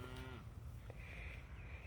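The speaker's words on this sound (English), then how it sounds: "We're coming to be with the cows." A faint, distant cow lets out a short low moo over a steady outdoor background hiss.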